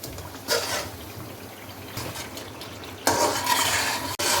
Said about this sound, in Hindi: और अब इसको दही के साथ वो भून लें लो फ्लेम करके।